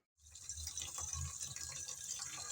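Running water rinses fresh coriander leaves, a steady close gush that starts abruptly after a brief silence and continues evenly.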